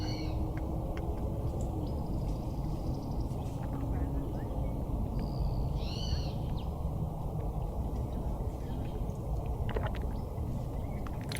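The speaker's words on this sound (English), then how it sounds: "I recorded these bird sounds too." Scattered bird calls recorded for a video game, short chirps and warbles at intervals over a steady low background rumble, with a voice murmuring underneath.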